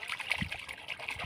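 Gule fish, freshly dug from a hole, splashed and rinsed by hand in water, with a soft continuous trickling wash and light gurgles close by.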